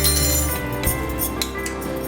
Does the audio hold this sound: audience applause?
no